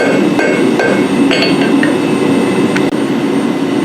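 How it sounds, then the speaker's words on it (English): A slag hammer head is hammer-forged, with its edges tapered slightly. Loud, close metal-on-metal hammer blows repeat over a steady roaring background. "So I'm going around and just hitting it and slightly tapering it by like 3 degrees"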